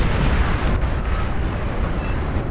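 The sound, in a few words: explosion in Beyond All Reason video game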